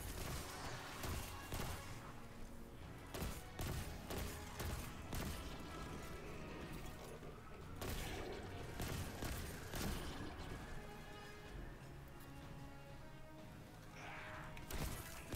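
Rifle fire in Destiny 2: Forsaken, a dense run of sharp sharp shots and impacts in irregular bursts, with crashes and explosive hits mixed in, fairly quiet overall.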